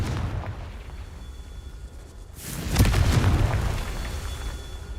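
A Confringo fire spell explodes in Hogwarts Legacy, one deep booming blast with a rumbling low-end burst that swells suddenly after a quieter stretch and then lingers as a sustained roar, loud and close.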